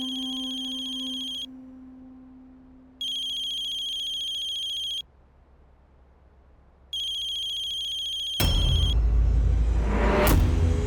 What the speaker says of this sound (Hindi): अरे पापा का फोन आ रहा है